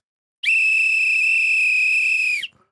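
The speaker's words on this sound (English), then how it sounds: "Where's my whistle?" A single sustained referee's whistle during a live reaction to an NFL football game, loud and steady for about two seconds with a sharp start and clean cutoff, alone with no talk over it.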